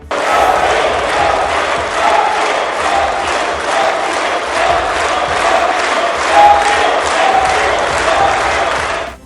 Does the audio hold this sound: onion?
no